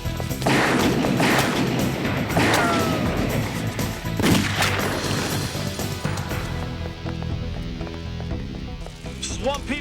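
Gunfire in a TV drama scene, several sharp loud shots and thuds in quick bursts over the first half, followed by quieter background noise.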